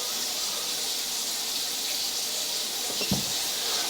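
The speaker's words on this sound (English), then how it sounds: "I just flushed the upstairs toilet." Water from an upstairs toilet flush rushing down through the house drain line, a constant broad hiss with one soft thump near the end and no speech.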